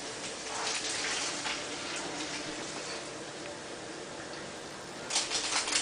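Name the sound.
draining grease from browned ground meat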